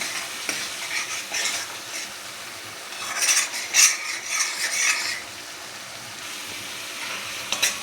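A spoon stirs black pea and chickpea curry in a hot pan, making scraping, clinking strokes over a soft sizzle of frying. The stirring comes in close, uneven bursts, with a busier stretch in the middle.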